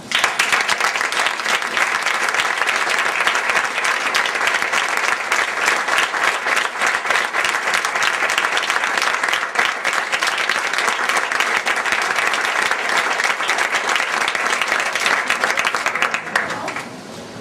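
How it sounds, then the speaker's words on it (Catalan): Strong, sustained applause from a concert audience of a youth band, welcoming the director Benjamín Garzón García; dense steady clapping fills the hall at a constant level for the whole span, tapering slightly only at the very end. "demanem a la seva presència i fem un fort aplaudiment"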